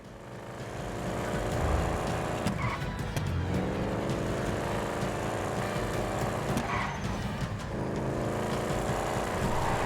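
A car engine revs in Grand Theft Auto 5, its deep, bassy drone climbing in pitch through a few repeated surges, with a faint skid-like hiss over a steady loud bed.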